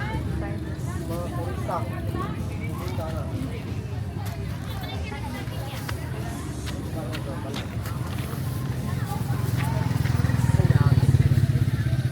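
A motorcycle passes along a street corner amid crowd babble and chatter, its engine drone holding steady before swelling louder near the end as it comes closer.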